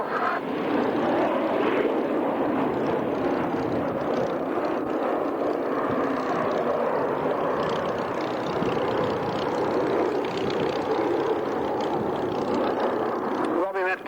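A vintage warbird, a Bearcat, roars through a high-speed low-level pass at the Duxford autumn airshow, its sustained engine drone loud and steady throughout while a commentator talks over it.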